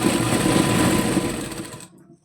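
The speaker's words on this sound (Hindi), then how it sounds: "ये बारीक सिलाई लगाऊंगी" A sewing machine runs steadily, putting fine stitches along the frill of a baby frock, then slows and stops near the end.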